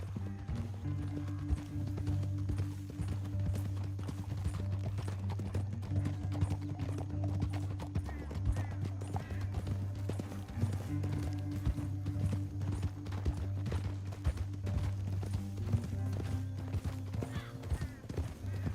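Horse hooves gallop in the video game Red Dead Redemption 2, a steady, rapid clip-clop rhythm that runs throughout over a low background hum.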